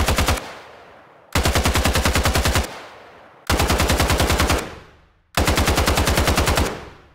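A fully automatic gun sound built for a video game fires four sustained bursts of rapid shots, each cutting off into a fading echo tail, loud and punchy.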